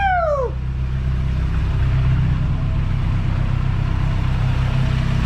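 A heavily built Mazdaspeed6 engine idles steadily just after its first start in a garage, a low rumbling drone throughout, with a brief squeal at the very beginning.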